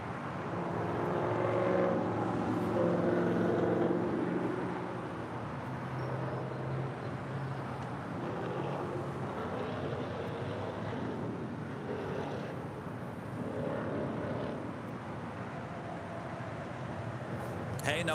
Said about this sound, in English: Latam Airlines flight 602 coming in from Santiago. It's a 787-8 Dreamliner.